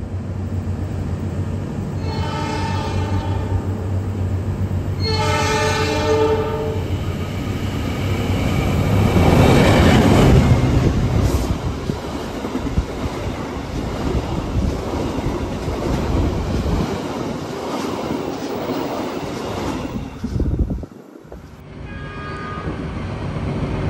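The Lodaya train from Solo to Bandung passing at Bojong station while the observing train waits to cross, with a horn blast early on and a loud, steady rumble and clatter of wagons that swells and continues for over twenty seconds.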